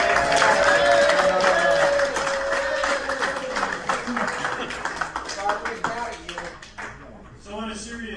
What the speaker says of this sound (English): Give Adam a round of applause for eating all the cheesecake.